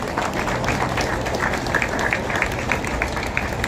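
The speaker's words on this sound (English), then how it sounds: "Give a round of applause for our Grand Marshals and his deputies." Crowd applause at a Brooklyn Memorial Day parade greeting the grand marshals, a steady wash of many hands clapping from a crowd outdoors, continuous and moderately loud throughout.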